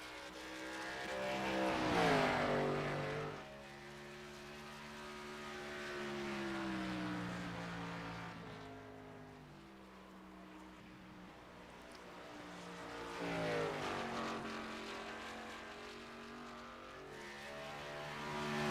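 A race car on a timed qualifying lap is heard as a loud engine note rising and falling through the gears. It swells as the car passes near, fades into the distance, then climbs again on the next approach.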